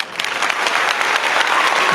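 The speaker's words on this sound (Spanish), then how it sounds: "Vamos a recibir con un fuerte aplauso a nuestro invitado de hoy" Strong applause from a studio audience welcomes a guest, dense and continuous clapping that swells slightly over two seconds, loud and close.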